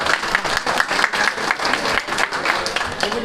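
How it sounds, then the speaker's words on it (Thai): A crowd at a 2015 creative business club gathering claps steadily to welcome a police major general, with dense, even applause running throughout at close range. "ขออนุญาตปรบมือต้อนรับท่านพลตำรวจตรี สมภูมิประพันธ์นครับปรบมือต้อนรับด้วยนะครับ"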